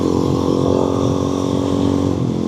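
A dual sport motorcycle rides along a country road, its engine a steady, loud, close drone with a constant pitch and no speech over it.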